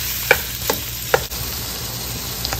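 Homemade beef meatballs and ground beef stir-fry in a pan with a low, steady sizzle, punctuated by a few sharp spatula taps and scrapes against the pan.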